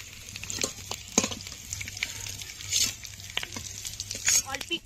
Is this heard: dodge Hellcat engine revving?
no